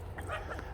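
A dog at a dog park gives a quick, faint yip or short bark, a single brief burst over low background noise.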